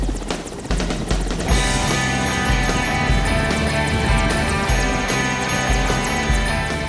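Loud, steady engine drone of a skydiving plane at 4,000 meters, with a heavy low rumble and whining overtones, constant throughout with no talking.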